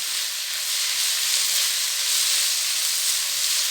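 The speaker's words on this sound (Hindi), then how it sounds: "अब हम इसको मसालों के साथ 1 मिनट अच्छे तरीके से पका लेंगे।" Masala pasta with spices cooks in a pan over a medium-high flame, giving a steady, even hiss and sizzle that holds at a constant level with no talk.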